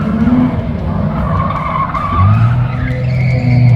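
A drift car skids and slides in a long run of tire noise, its engine note rising and falling steadily, loud and close throughout.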